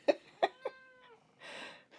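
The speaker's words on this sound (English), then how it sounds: "I like a chatty cat." Cat meowing in a quiet room, a run of short, sharp chirps and meows followed by a longer drawn-out meow and a final brief call, close and clear.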